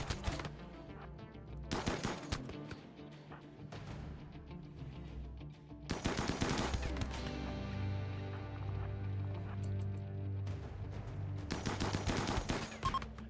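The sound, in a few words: gunfire in a raid in the video game RimWorld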